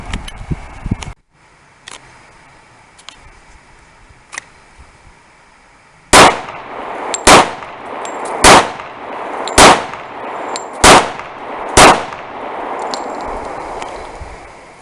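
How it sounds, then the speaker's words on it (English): An XD .45 pistol fires 230 grain full metal jacket rounds at a range: six loud, sharp shots spaced about a second apart, each with a short ringing tail, after quiet handling noises. "Today we're going to be firing this weapon with Perfecta 230 grain full metal jacket rounds."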